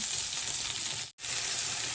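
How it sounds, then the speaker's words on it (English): Loud, steady sizzling and frying hiss from steak in a hot pan, briefly cutting out for a split second before resuming. "I hope you can hear me over the sizzle."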